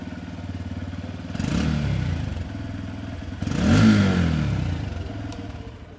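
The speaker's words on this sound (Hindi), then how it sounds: "अब स्टार्ट करके साउंड सुना देता हूँ कि इसकी एग्जॉस्ट नोट कैसी है, सुनो आप लोग।" A Honda Hornet 125 2026 motorcycle idles close by with a steady, throbbing exhaust note, then revs up twice in brief surging bursts before settling back to idle.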